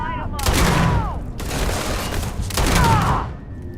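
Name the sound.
gunfire in video game Starfield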